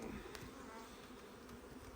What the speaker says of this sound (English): we see plenty of bees